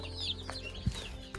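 Chickens and turkeys cluck on a poultry farm in Kokrajhar. There are a few brief, scattered clucks and calls at moderate distance over a soft background hum.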